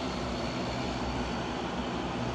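A passenger airplane at an airport in Nepal gives off a steady, broad engine roar. It holds even and fairly loud throughout, with no speech over it.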